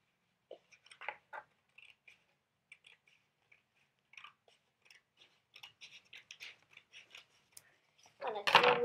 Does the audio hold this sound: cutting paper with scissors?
yes